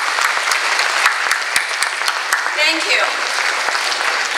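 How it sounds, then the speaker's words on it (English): Applause from a full house of supporters at the Fuhui charity gala dinner in Toronto, a steady dense clatter of many hands filling the room, with a brief spoken thanks over it near the end. "May I please ask for a round of applause to yourselves for coming to the gala"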